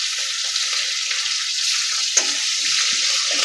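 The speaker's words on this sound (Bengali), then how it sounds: "জিরেটা একটু ভেজে নিই" Cumin seeds sizzle steadily in hot oil in a home kitchen, a constant close frying hiss with a faint stir partway through.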